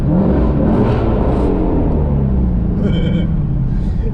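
A Ford Mustang GT350 engine rumbles loud and close with a deep, steady roar that lifts slightly as it revs, with a brief voice partway through.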